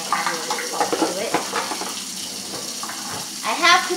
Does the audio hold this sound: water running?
yes